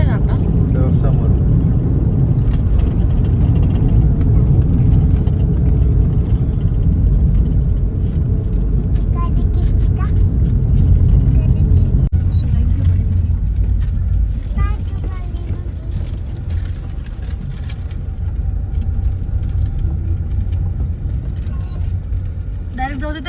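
A car drives in the early morning toward the Trimbakeshwar temple in Nashik, its engine and road rumble a steady low drone that eases slightly midway, with people talking inside over it.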